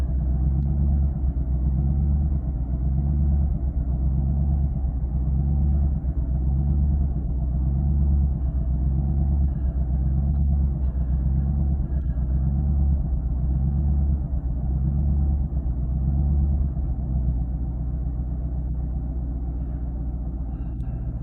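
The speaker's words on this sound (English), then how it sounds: "on a cold start, okay? The car sounded like it was dying." Tuned car engine on a cold start, idling roughly: a low, uneven rumble with a steady pulsing throb that keeps going, close and continuous, with no voices.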